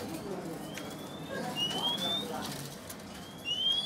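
Caged birds in a bird shop kiosk at Kemayoran, including Grade A Sumatran magpie-robins, giving faint repeated rising whistles and soft coos over low background murmur while someone talks.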